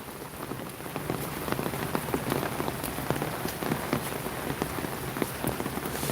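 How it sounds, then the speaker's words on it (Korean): Rain falls steadily, with close drops pattering and ticking on a nearby surface over a continuous hiss. No one speaks. "빗방울이 조금 가늘어진 것 같습니다"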